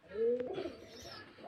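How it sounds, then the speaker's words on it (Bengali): A young Saharanpur napta pigeon gives a short soft coo, a single brief call close by over a quiet background. "এগুলো সাহারানপুরে নাপ্তা পায়রা, জিরো পরের বাচ্চা"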